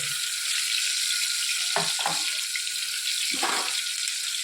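Tomatoes, green chillies, ginger and garlic sizzle in hot oil with a loud, continuous hiss, broken by a few sharp bursts of spattering and stirring near the middle and end.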